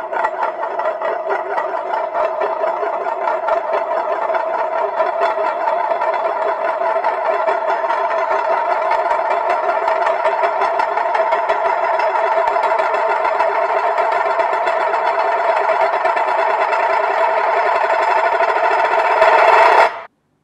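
A Euler's disk spins on a flat surface with a loud, continuous metallic whirring hum that holds steady for about twenty seconds before cutting off abruptly.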